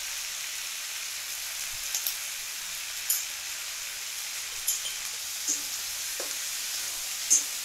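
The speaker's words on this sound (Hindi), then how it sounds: "अब इसको हम 3-4 मिनट इसी तरीके से भून देंगे।" Green peas frying over high heat in a pan for ghugni, with a steady soft sizzle and a few light scraping knocks as they are stirred, no voices.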